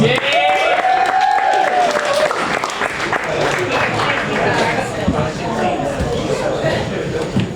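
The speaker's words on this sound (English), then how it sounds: "Again, a little bit of applause." An audience at a Stonewall FC football club awards night claps steadily and fairly loudly throughout. Voices and a few whoops rise above the applause.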